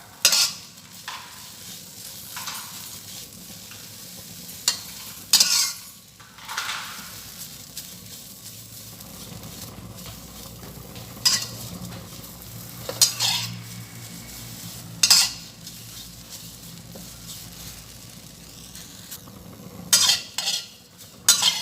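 Mulberry leaves being stir-roasted in a pan for tea make intermittent scraping and clinking of a utensil against the pan over a quiet, dry sizzle, with louder stirring strokes every few seconds.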